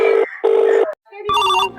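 A telephone rings in two even, sharp bursts, pauses, then gives a different melodic electronic ring, loud and close, with no talk over it.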